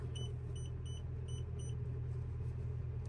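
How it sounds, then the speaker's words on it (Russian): An LGMG H735 telescopic loader engine idles with a steady low rumble, while a high electronic beep repeats in a quick even rhythm over the first couple of seconds. "Отлично, запустили мотор."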